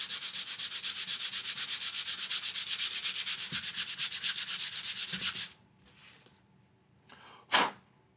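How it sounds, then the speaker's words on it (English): Steady, rapid back-and-forth rasping of sandpaper worked over wood by hand, continuing for several seconds, then stopping, followed by a couple of soft brushes. "Sand it."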